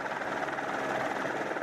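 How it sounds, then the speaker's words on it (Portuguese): A firefighting helicopter used for rappelling crews over a huge wildfire produces a steady, loud rotor and engine drone with a fast pulsing beat, heard alone for under two seconds. "Rob Delmans e Mary Ann Harding fizeram rapel do helicóptero sobre o maior de todos os incêndios"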